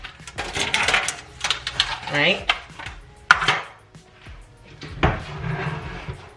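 Metal stove top covers are lifted off and handled, making a string of clanks, rattles and knocks, some sharp and loud, with a voice talking briefly among them.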